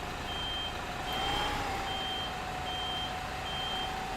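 A bus reversing alarm in the video game OMSI 2 beeps at a steady, regular pace over a continuous engine drone, fairly close and moderately loud.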